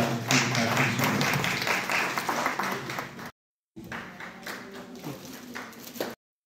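Audience applause welcoming an agriculture officer at a Department of Agriculture farmer welfare event in Jammu, a dense sustained clapping that breaks off briefly, then resumes before stopping abruptly.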